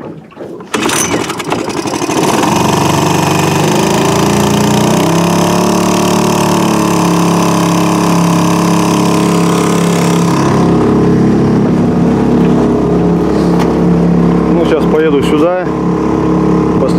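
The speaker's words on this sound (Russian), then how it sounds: "Ребята, завел моторку." Close and loud, a boat's outboard motor starts on a river during a fishing trip, runs in a steady drone, then drops away after about ten seconds.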